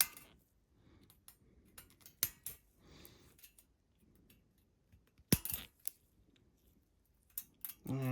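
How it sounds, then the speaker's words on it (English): Plastic Death Star model parts being snipped from the sprue with cutters: a few sharp, isolated clicks spaced several seconds apart over a quiet room, with soft handling rustle in between. "You should always cut from this end, cut right where it actually meets the model"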